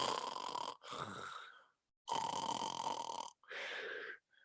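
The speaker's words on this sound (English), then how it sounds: "I still hear him snoring." Loud, rasping snores from a sleeping dad in a children's story reading come in long drawn breaths separated by short pauses, with no voice over them.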